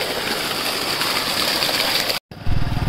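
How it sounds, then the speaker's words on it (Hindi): A motor-driven water pump runs steadily, pushing a continuous rushing, gurgling flow of water into the ground; the loud wash cuts out for a moment near the end, then a deeper churning resumes. "ये मोटर चल चुकी है और यहाँ से पानी जा रहा है ज़मीन में।"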